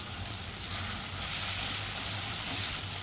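Finely chopped carrots sizzle in hot oil for a steady, dense frying hiss with a low rumble beneath, continuous and close with no talk.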